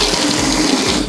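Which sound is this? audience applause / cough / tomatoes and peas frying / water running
water running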